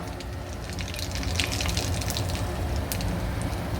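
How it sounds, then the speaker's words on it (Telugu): Mustard seeds crackle and sizzle in hot oil as a tempering for raw mango pulihora, a steady close bubbling hiss with sharp little pops scattered through it, no voices. "నేను అందులో వేడైన తర్వాత ఆవాలు వేస్తున్నానండి, ఒక 1/2 చెంచా."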